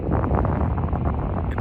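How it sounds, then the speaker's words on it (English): Strong outdoor wind buffets the microphone in a steady, loud roar with no other clear sounds. "it's quite windy."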